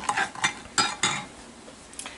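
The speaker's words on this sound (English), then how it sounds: "I'm just going to kind of stir it in, get all my lumps out." A spoon scrapes and clinks against a pot while stirring a melted syrup mixture for Mountain Dew apple dumplings, four or five quick close metallic strokes followed by a softer tap.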